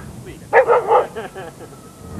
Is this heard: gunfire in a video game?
no